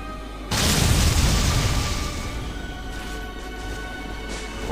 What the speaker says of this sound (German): Mit der Rakete reißen wir die Wand ein bisschen ein. Die Bombe macht sie vollständig kaputt.